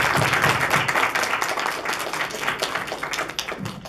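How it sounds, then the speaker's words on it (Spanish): Applause for both teams at a school debate tournament, a burst of moderately loud hand clapping from the room that gradually tapers off. "Le damos un aplauso a ambos equipos."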